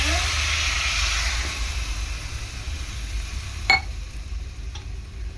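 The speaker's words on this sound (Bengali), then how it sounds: "একটু জল দিয়ে দেবো" Water hitting a pan of amudi fish cooking with raw tomato gives a steady broad sizzling hiss throughout, fading slightly, with a sharp clatter near the end. A voice speaks in the background.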